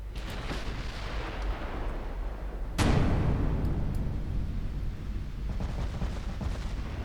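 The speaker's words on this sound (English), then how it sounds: "So fire one turret, pause, wait for the recoil impulse to dissipate," Battlecruiser turret salvo in a naval warfare game, a single heavy boom that erupts sharply and then rolls on in a long rumbling tail over steady low background noise.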